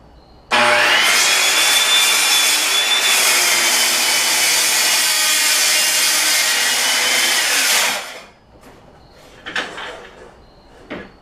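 A circular saw rips wood along a straight edge: one loud, steady cut of about seven seconds with a high whine, then it cuts off and the blade spins down, followed by a few faint knocks.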